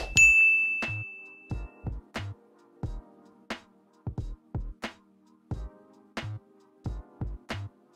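A notification bell sound effect plays alone as a string of bright, clicky dings that repeat in quick, uneven bursts over several seconds, clear and close against silence.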